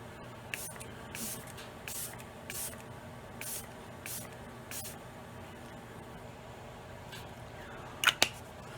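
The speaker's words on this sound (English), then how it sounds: "Okay, so now I'm going to just spray this down." A makeup setting spray is pumped onto a face in a series of short, soft hissing bursts, roughly a dozen in quick rhythm, followed by a couple of faint clicks near the end; nobody speaks.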